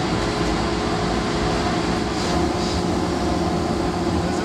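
An Oneida dust collector runs at full power with strong suction, giving a steady, loud broadband roar that holds constant throughout with no voices.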